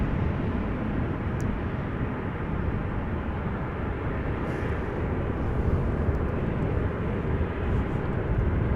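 A landing airplane arriving at Amsterdam Schiphol Airport gives a broad, steady engine roar, constant and fairly loud throughout, with no talking.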